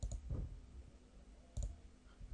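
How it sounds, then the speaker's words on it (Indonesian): Two crisp computer mouse clicks, a right-click during photo editing, sound close and sharp with a quiet pause between them and no talking. "Nah kita klik kanan"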